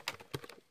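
Computer keyboard keys tapped while typing code in Visual Basic 2008, a short quiet burst of about five clicks in quick succession with no voices.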